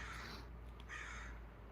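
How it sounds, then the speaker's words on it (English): Crows caw outdoors at a distance, giving two or three faint, hoarse calls over a steady low background hum. "Please enjoy the crows. They'll entertain you."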